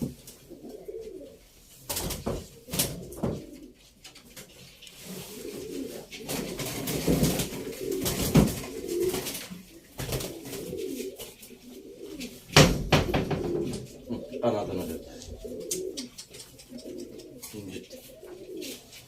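Pigeons kept for flying coo steadily at close range, with soft overlapping throaty calls, occasional wing flutters and knocks, and a busy indoor background with no clear talking.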